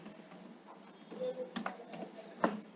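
Keys tapped on a computer keyboard while a UAN number is entered, a light irregular run of clicks at close range with a slightly louder tap near the end, no voices.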